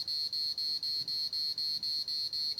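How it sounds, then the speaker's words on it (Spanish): A circuit simulation's alarm buzzer sounds alone in rapid, regular pulses, roughly four high-pitched beeps per second, each an even tone of the same length, repeating steadily. "Les voy a mostrar cómo funciona nuestra alarma."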